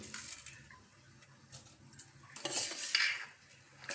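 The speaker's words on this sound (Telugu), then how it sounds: "మనం బియ్యం ముందే కడుక్కొని ఉంచుకున్నాం కదా, ఆ బియ్యం వేసుకోండి అందులో" Washed rice tipped into a pot for bagara rice and stirred with a metal spoon, giving scraping clinks and a soft, gritty patter that rises to a louder splashy stir toward the end, with no talking.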